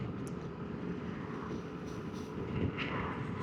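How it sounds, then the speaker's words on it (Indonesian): An airplane descending to land near Soekarno-Hatta airport in Tangerang gives a steady, moderately loud broadband engine roar, swelling slightly toward the end over outdoor traffic rumble. "Oh, ada pesawat tuh turun."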